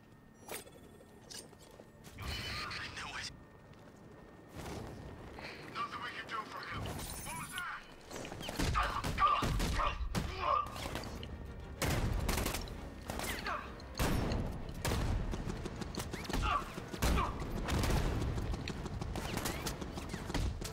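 A wall-mounted turret in Batman: Arkham Knight fires rapid, clattering bursts mixed with mechanical game noise, fairly faint overall, while a person talks over parts of it.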